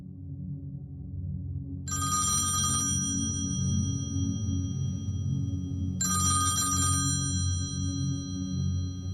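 A telephone rings at night in a quiet home, two bright electronic ring bursts about four seconds apart over a steady low hum.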